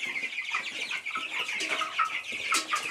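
Twenty-day-old meat chickens, a flock of about 38, cluck loudly and continuously in a dense overlapping chorus of sharp calls close by, with no talking.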